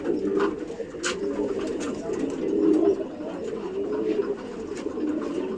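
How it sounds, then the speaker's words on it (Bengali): Pigeons cooing at a pigeon loft while young birds roam and feed below, a continuous low rolling coo close by with soft rustles and faint clicks over it. "এখানেও কিছু পায়রা ওড়ানো হয়েছে আর তলায় দেখুন বাচ্চা পায়রাগুলোকে ছেড়ে রেখেছি তারা খাচ্ছে ফাচ্ছে ঘুরছে"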